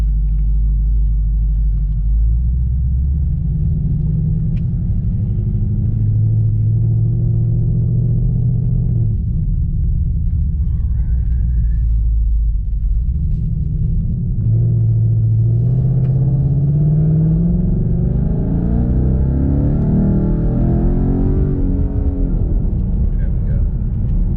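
A modified Ford Mustang S550 with a Coyote engine and a new tune idles nearby, producing a deep, steady low rumble with a few small revs while people talk over it.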